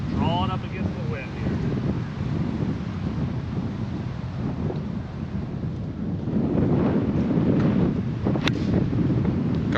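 Strong gale-force wind buffets the microphone on a golf course, a steady low roar and rumble throughout that swells louder near the end, with faint voices of golfers partly buried beneath it.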